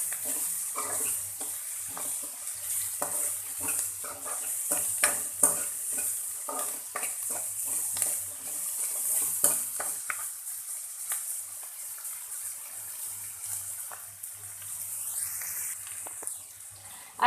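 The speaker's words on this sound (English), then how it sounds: "Try to add a bit of salt whenever you're trying to fry the onion" Onions sizzle in a hot pan with a steady high frying hiss, punctuated by repeated scraping stirs in the first half, then quieter sizzling alone.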